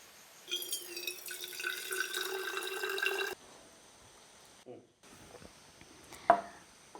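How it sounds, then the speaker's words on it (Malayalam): Warm homemade cough remedy drink is poured into a flask, a bright liquid splashing and trickling for a few seconds before stopping; a quieter clink and small handling sounds follow. "എന്നിട്ട് നമ്മളിത് ഫ്ലാസ്കിലേക്ക് ഒഴിച്ച് വെക്കാം."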